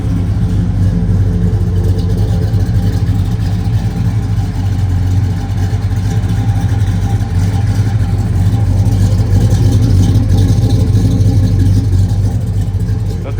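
A freshly tuned 1970 Chevrolet Chevelle engine idles with a deep, steady, loud rumble close by, holding a smooth, even throb throughout with little change.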